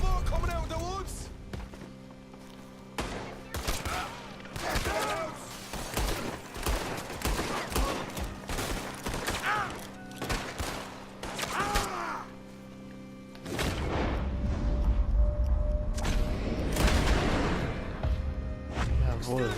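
Gunshots in the video game Red Dead Redemption 2 near woods: scattered sharp cracks and rapid volleys, some close and loud, mixed with game voices and a low rumbling bed that swells toward the end.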